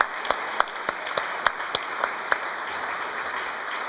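Audience applause after a live community resource center opening event, a steady wash of many hands clapping with a few sharper individual claps standing out, heard alone with no talk.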